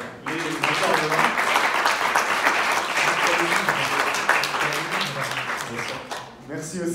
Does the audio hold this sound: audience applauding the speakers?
yes